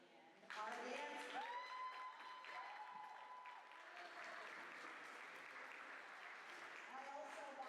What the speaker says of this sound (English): have a big round of applause for Jags with a Z on the end.